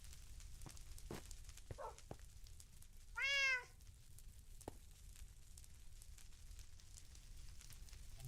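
A Minecraft cat gives a single clear meow partway through, moderately loud over a faint crackling background with a few scattered clicks.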